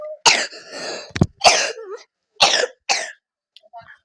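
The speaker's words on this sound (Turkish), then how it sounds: "Arkadaşlar biraz öksürüyorum" A person coughs several times in short bursts, with a throat-clearing sound among them, close and fairly loud, then quiet.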